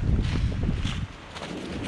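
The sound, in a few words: strong wind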